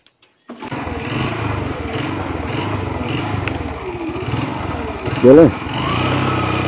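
A motorcycle with two riders on board starts up and pulls away, its engine droning steadily close by and then revving hard in a short loud burst near the end, with someone talking over it.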